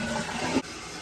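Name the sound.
toilet flushing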